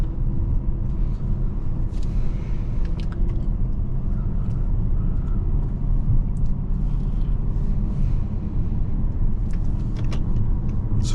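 A 2005 BMW 645Ci accelerating to merge, heard from inside the cabin as a steady, continuous low engine and road rumble with no talk over it.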